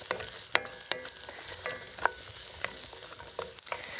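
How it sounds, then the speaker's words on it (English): Chopped onion sizzles in hot oil in a pan for an Italian tomato sauce, a soft continuous crackle punctuated by several sharp scraping clicks as it is stirred, fairly quiet and close. "Fire the onion in. I love that sizzle."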